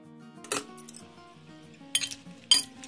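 Utensils clink and scrape in a bowl while a low-calorie salad is tossed with chili sauce and dressing, with three sharper clatters of metal on dish standing out over a soft, steady background tone.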